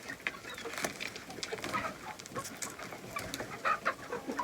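Domestic chickens clucking in a backyard flock, a faint, busy chorus of short repeated clucks and calls coming from several birds at a moderate distance.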